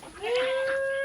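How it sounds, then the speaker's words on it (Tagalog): A goat on a farm lets out one loud, close bleat with a wavering rising pitch that holds steady for under a second. "Tapos yung kambing."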